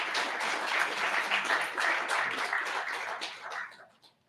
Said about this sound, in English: let's give logistics a round of applause